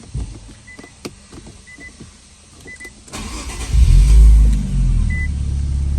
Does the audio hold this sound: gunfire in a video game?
no